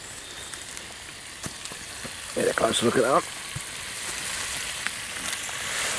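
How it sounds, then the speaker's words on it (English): Bacon sizzling and crackling in a hot frying pan over a wax burner outdoors, a steady close hiss with small pops, while someone speaks briefly over it. "Got the old wax burner on the go. Doing some bacon."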